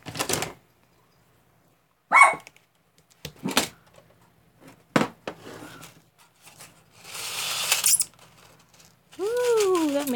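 Pieces of 18 gauge copper wire are cut indoors, giving several sharp, separate snips and clicks with quiet pauses between them, followed by brief rustling and a squeaky sound at the end.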